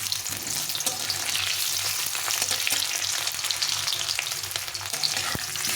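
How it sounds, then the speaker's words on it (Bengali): Potatoes frying in hot oil over a medium-to-low flame, a steady dense sizzle and crackle running close and even throughout, with no talking. "তো এখন আমি আলুগুলো ভেজে নেব তেলটা গরম হয়ে গেছে মিডিয়াম টু লো ফ্লেমে আমার আলুটাকে ভালো করে ভেজে নেব"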